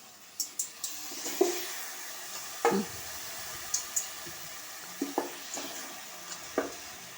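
Eggplant pieces fry in a generous amount of oil for a Telugu stuffed-eggplant curry, a soft steady sizzle punctuated by sharp clacks and scrapes of a spoon stirring in the pan.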